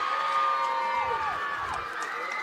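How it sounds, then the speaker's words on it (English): Crowd cheering and shouting at a girls' high school state wrestling meet in a large arena, a sustained roar of many voices with whistles rising and falling, fairly distant and loud. "And the crowd goes crazy."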